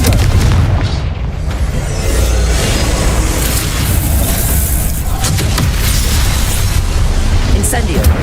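A Confringo spell explodes in Hogwarts Legacy, a loud sustained blast of rumbling booms and crackling bursts that fills the whole stretch with dense noise and never drops to quiet.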